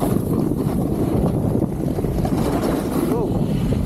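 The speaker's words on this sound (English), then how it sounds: "It's so windy up the top here" Strong wind buffets the microphone at a mountain summit, a loud continuous roar with gusty rumble throughout and a brief faint voice near the end.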